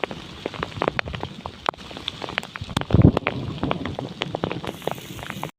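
Steady rain and hail pattering on a surface, with scattered sharp drops and a brief louder burst partway through; no voices.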